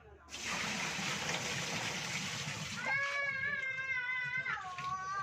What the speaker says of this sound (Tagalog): buhusan natin ng tubig kung maglilik ba